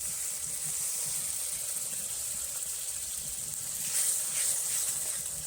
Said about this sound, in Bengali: এবার এই মশলায় আমি দিয়ে দেবো সামান্য পরিমাণ কিছুটা জল